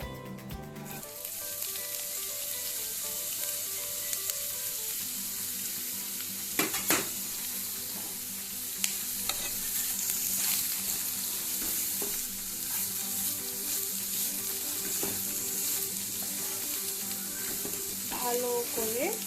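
Sliced onion hisses and sizzles steadily in hot oil in a pan for a Goan-style chicken vindaloo, with occasional clinks and scrapes of stirring over a continuous close-up crackle.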